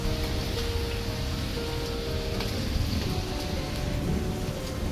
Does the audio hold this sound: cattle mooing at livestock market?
no